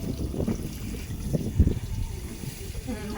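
Water runs steadily from a borewell pump, a continuous low wash of flow with a few soft splashes.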